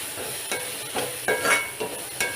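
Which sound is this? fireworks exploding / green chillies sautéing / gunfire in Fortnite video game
green chillies sautéing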